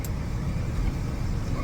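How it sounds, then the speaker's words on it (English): A 1993 Lincoln Mark VIII's V8 engine gives a steady, deep rumble from inside the car as it pulls away, loud and unbroken, with no one talking. "you can hear it when you step on it. You hear that V8"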